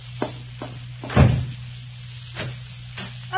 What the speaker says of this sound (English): Oh, excuse me for banging the door.